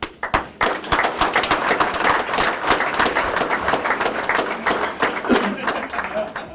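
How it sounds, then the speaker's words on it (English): Guests at a fire district installation banquet burst into applause, a fairly close, dense run of clapping with sharp individual claps standing out, continuing steadily. "please, with a round of applause"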